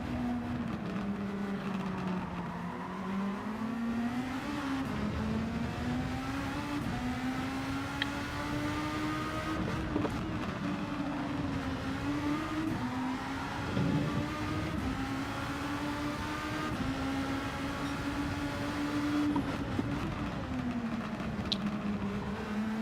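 A Super Formula race car in Gran Turismo 7, its high-revving engine whining steadily throughout, pitch rising and falling through gear changes and corners, close and continuous with no talk.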